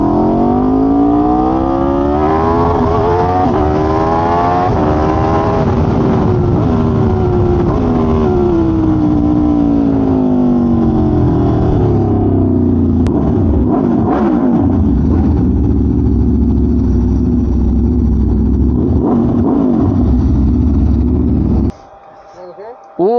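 A superbike engine revs hard and loud up close, pitch sweeping up and down through long blasts before cutting off near the end.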